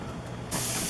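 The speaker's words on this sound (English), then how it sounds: "the steam is coming out pretty good now" Steam vents from a pressure canner of bone broth as a broadband hiss, quieter at first and then surging to a loud, steady rush halfway through.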